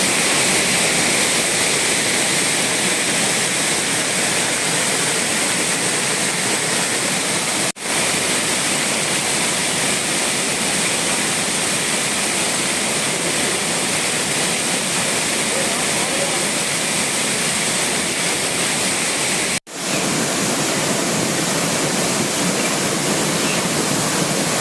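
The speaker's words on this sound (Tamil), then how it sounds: "அருவியில் தண்ணீர் ஆர்ப்பரித்து கொட்டும் காட்சிகளை தற்போது பார்க்கலாம்" Courtallam waterfall in flood, water roaring down in a steady, dense, loud rush that holds unbroken throughout, with two brief dropouts in the sound.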